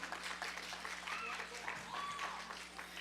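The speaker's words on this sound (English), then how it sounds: "Give them big footing and big round of applause." Applause from the audience at a devotional dance festival greets Bharatanatyam and Kathak dance school students, a fairly faint wash of clapping with a few whoops and murmuring voices mixed in.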